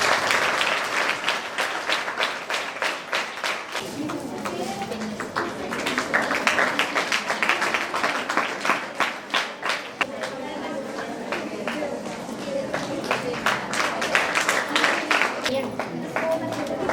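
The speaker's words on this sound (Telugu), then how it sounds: "స్ఫూర్తి 10th క్లాస్ చప్పట్లు కొట్టాలి" Students of a tenth class applaud at a Karimnagar school event where exam pads and pens are handed out, a steady crowd clapping that swells midway, with a voice speaking over it near the start.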